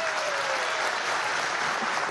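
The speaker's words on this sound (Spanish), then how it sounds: "Para ella un aplauso." Steady, dense applause from a crowd at a political gathering with Nicolás Maduro at Miraflores palace, loud and continuous throughout with no pauses.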